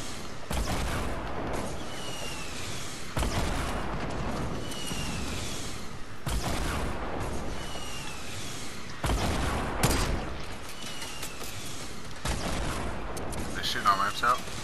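Gunfire in a multiplayer shooter video game as opponents shoot out the players' ramps, dense bursts of shots and impacts running continuously under frequent excited talk between teammates.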